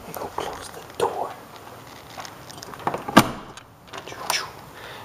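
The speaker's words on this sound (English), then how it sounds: "Let me go close the door." A door is pushed shut indoors at night, giving a couple of sharp thuds and knocks against a quiet room background, with faint shuffling around them.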